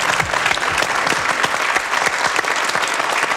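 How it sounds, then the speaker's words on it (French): French television game-show studio audience breaking into sustained applause, dense and even clapping filling the whole stretch at close range without any speech. "On l'applaudit aussi"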